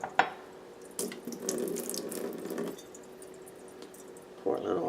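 Water splashes as it is poured off soaking rice, a steady running pour in two bursts between quieter moments, heard close under someone talking.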